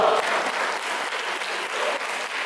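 A crowd of students applauds at an Indonesian Islamic school's student council inauguration, a steady, full patter of many hands clapping throughout.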